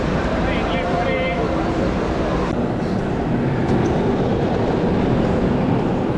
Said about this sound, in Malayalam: നമ്മളേതായാലും ചെന്നൈ എഗ്മോർ സ്റ്റേഷൻ വിടുകയാണ്